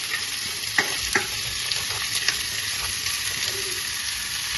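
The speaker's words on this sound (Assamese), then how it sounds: "এতিয়া কলডিল আৰু বুট আলু এইখিনি দি দিছোঁ" Banana flower and potatoes tossed into a pan with browned onion and green chilli, frying in a loud, steady sizzle broken by a few sharp stirring clacks; no one speaks.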